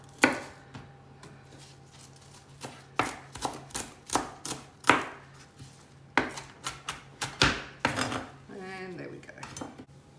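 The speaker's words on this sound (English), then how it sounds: "So I'm going to chop that up and add that in as well. Just roughly chop it." A knife roughly chops vegetables for a lamb and vegetable soup, with quick irregular thuds on a board, close and crisp, and a brief scrape of gathering near the end.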